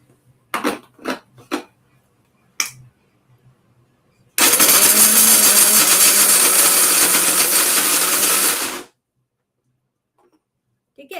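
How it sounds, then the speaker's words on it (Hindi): A mixer grinder jar blends chopped dates with a loud, steady roar for about four seconds, preceded by a few clattering knocks and followed by silence. "डेट्स मैं इसमें डाल रही हूँ मेरे मिक्सी जार पे और उसको चला रही हूँ।"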